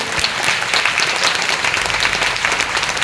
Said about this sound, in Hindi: तो एक बार ताली वाले सभी के लिए।